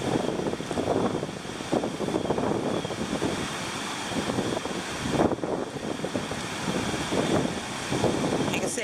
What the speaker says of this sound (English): Like I said, the wind is still blowing, but it's not as bad.